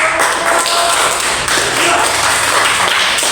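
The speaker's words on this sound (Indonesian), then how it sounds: "Kita kasih tepuk tangan." A class of students in a school lesson applauds together, a dense, steady patter of many hands clapping at close range that fills the whole short stretch.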